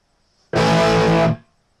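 A single electric guitar power chord with distortion, in a simple rock rhythm style, strikes abruptly, rings thick and full for under a second, then cuts off sharply, loud and close with no voices.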